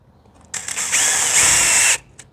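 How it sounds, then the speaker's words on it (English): A power drill with a small pilot bit pre-drills holes for a side awning install, a short whine spinning up and biting in for about a second and a half, close and loud, then stopping. "Then I'm gonna use a little pilot bit."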